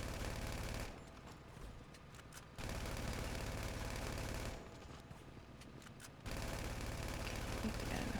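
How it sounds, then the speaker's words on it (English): A gun fires inside a Rockstar Editor video game scene, two long runs of rapid, even shots at moderate loudness separated by quieter stretches. "we're going to shoot off this gun"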